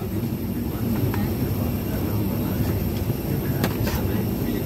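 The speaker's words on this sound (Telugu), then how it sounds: "ఇప్పుడే మనము ఫ్లైట్ లోపలికి వచ్చేసినాము." A steady, loud broadband drone fills an airliner cabin with three-plus-three seating, heard from a window seat, with a few faint clicks and knocks over the constant hum.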